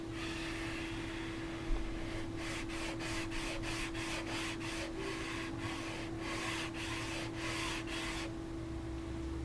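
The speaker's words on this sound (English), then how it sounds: "More sanding." Quick, short sanding strokes scrub a Rickenbacker bass fretboard in a fast rhythmic burst of rasps, starting after a light knock and running over a steady background hum.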